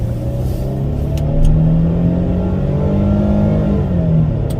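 A 2022 Nissan Frontier Pro4X towing 5,700 lb accelerates hard from inside the cab, its engine drone rising steadily in pitch and staying loud throughout with no speech.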